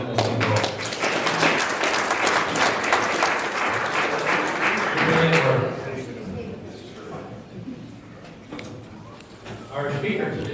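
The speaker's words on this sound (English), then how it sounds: "let's give Rick Neely a round of applause for doing this thing well." Loud, dense applause from an audience at a Rotary club meeting fills the first half, then fades out as talk takes over.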